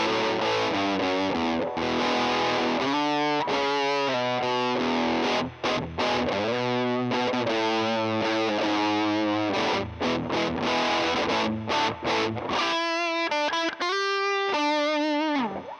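Distorted electric guitar through the high-gain second channel of a Mesa Boogie amp, heavy crunch, playing chords and riffs at steady volume, with brief pauses and a sharper, choppier passage near the end.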